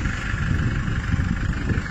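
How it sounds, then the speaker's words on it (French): A camper van engine idles steadily after starting, a continuous low rumble with no break in level for the whole two seconds. "Start the engine."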